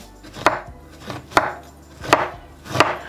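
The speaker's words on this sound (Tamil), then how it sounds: "இந்த பாவக்காயை வட்டமாயே இந்த வடிவத்தில் கட் பண்ணுறோம்" A knife slices a bitter gourd into rounds on a cutting board, producing four crisp evenly spaced chops, close and clear, with no talking.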